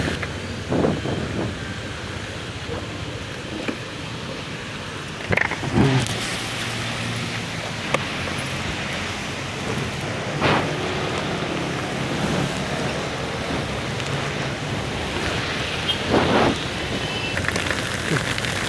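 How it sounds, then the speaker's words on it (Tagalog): Heavy downpour in near-zero visibility, a loud steady roar of rain with gusts of wind and occasional louder thumps and bursts throughout. "Ayun na, galit na naman yung ulan, no?"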